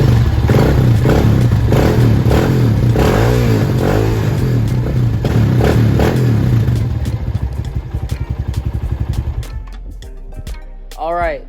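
A dirt bike engine fires up and runs close by, loud and clattery with repeated revving swells, then settles to a lower popping idle before a short, sharp rev at the end.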